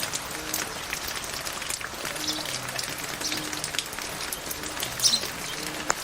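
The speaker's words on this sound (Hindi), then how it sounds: "सुबह की बारिश लगी हुई है, पहले थोड़ी थोड़ी आती रही और अब तेज़ आना शुरू हो गई है" Heavy village rain in the morning patters on surfaces all around, a dense, even hiss with occasional louder drops, no voices.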